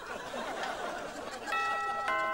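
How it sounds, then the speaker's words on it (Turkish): A gong-sound doorbell rings with two resonant, gong-like chimes in the second half, sounding over a murmur of background chatter. "Ben de zili değiştirdim. Gong sesi yaptım."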